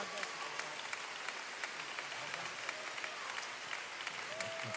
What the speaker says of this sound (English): why don't you clap your hands one more time and give God a shout of praise?